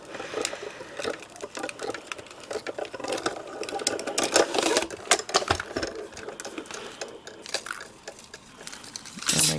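A hand-cranked die-cutting machine rolls a holiday ephemera die through at close range, producing an uneven run of mechanical clicks, crunches and grinding rattles that rise and fall as the crank turns.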